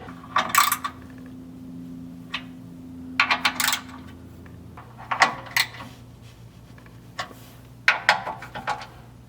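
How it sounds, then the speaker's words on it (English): Nuts being snugged onto studs of a Toyota Tacoma fuel tank skid plate, heard as several short bursts of metallic ratcheting and clinking separated by pauses over a faint low hum, nearby and without talk. "So let's get them snug."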